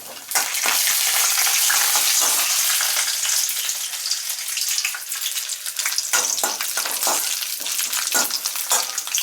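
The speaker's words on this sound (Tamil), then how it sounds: "கடுவை போட்டு தாளித்தோடனே அதுக்கப்புறம் கடலப்பருப்பை போட்டு செவுக்க வறுக்கணும்" Mustard seeds and chana dal fry in hot oil for a rava upma tempering, a loud, continuous crackling sizzle with rapid pops and sputters throughout, close and dense with no speech.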